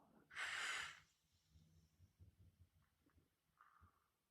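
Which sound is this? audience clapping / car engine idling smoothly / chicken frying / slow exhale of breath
slow exhale of breath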